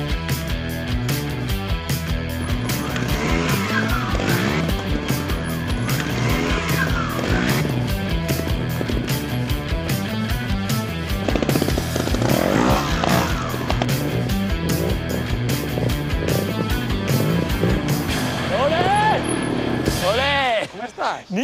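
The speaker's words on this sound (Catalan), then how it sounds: "escoltaba eso, el ruido ese de la moto" A motorcycle engine runs steadily close by, rising and falling in pitch through several revving sweeps over a continuous dense roar, with a louder swell midway and a tapering pass at the end; no talk is heard.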